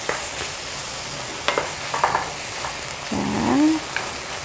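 Dried radish strips stir-fry in a pan for a vegetarian dish, a soft sizzle broken by scraping stirs and utensil taps, with a short squeaky sound near the end and no voices.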